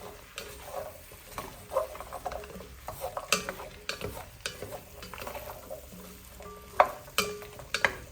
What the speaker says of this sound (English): Now I'm going in with the celery, carrots, and onions that we chopped up